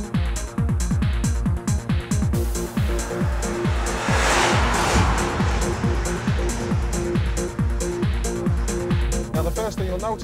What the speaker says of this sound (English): When you put your foot down, that is absolutely superb and exactly how a sports car should sound.